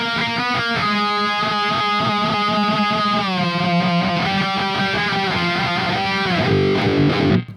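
Heavily distorted guitar through the Neural DSP Archetype Gojira plugin with the first blade octave pedal option engaged, chugging riffs and sustained octave-doubled notes that play loud and continuous, alone with no talking, before ringing out at the end.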